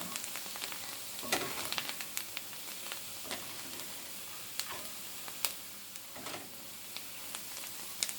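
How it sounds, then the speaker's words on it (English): Spinach and bacon mixture sizzling and frying in a pan, a steady close crackle with occasional sharper pops and stirring scrapes, no voices. "simmer and cook along with this bacon mixture"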